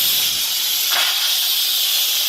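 An Instant Pot releases pressure through its valve after cooking baby back ribs, giving off a loud, continuous, close hiss of escaping steam.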